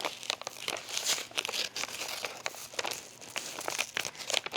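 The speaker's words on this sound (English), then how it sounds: "So I'm gonna go ahead and just trim this stabilizer around the" Stabilizer being trimmed away from around an embroidery design on stretchy knit fabric, giving close, dry crinkling and snipping crackles in irregular bursts throughout, with no talk.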